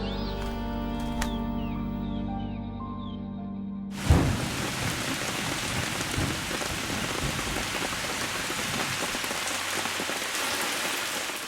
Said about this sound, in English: There was an unexpected rain and the nest got completely soaked.